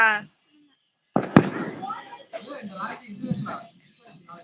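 A Diwali firecracker bursts with one sharp, loud crack after a brief silence, and people talk close by before and after the blast.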